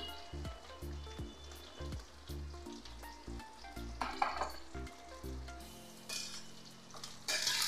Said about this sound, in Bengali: আলুটা একটু ভাজা হতে থাকুক